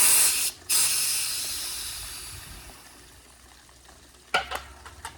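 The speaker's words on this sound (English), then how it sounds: "release the pressure" Pressurized gas rushes out of a Corny keg in a loud, sharp hiss that cuts off briefly, resumes and slowly tapers away, followed by a few short metallic clicks and knocks nearby.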